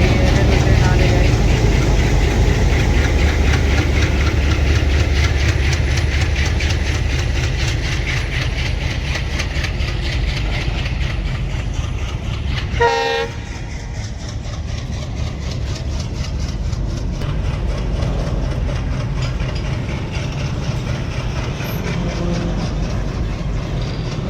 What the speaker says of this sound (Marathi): ही रेल्वे ट्रेन नवगण वरून बीड या रेल्वे स्टेशनकडे जात आहे